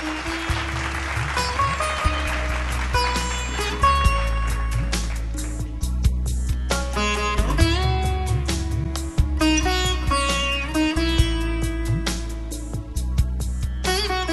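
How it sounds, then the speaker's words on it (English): An audience at an awards ceremony claps after the ceremonial lamp lighting. The applause is loud and sustained for the whole stretch, with music playing underneath. "can we have a huge round of applause for all of them?"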